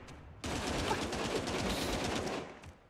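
Rapid sustained gunfire erupts in Spectre Divide, a dense volley of automatic shots rattling loudly for over two seconds before cutting off abruptly.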